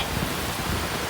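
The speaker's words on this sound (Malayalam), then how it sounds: "ചാറ്റൽ മഴയല്ല, ഭയങ്കര മഴ." Heavy rain pouring down steadily, a dense continuous hiss of falling water with no gaps, loud and close.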